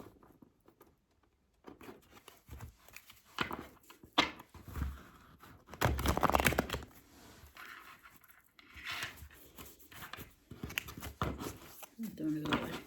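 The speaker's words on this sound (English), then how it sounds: "Let's give these a good shuffle from the last one." Tarot cards being shuffled by hand, giving soft papery riffles and flicks in uneven bursts, close and fairly quiet, with some rustling and handling noise between shuffles.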